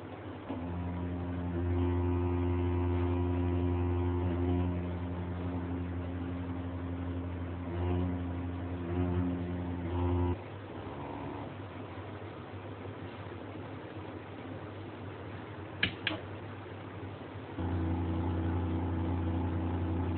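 Small electric motor on a sensor trainer rig running at full speed, a steady near hum with harmonic tones that drops out around ten seconds and returns near the end, briefly ticking in between.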